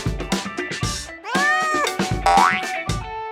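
Cartoon cats meow in a quick series of bright, sliding mewls, several short calls and a couple of longer drawn-out ones, loud and close with playful bouncy effects.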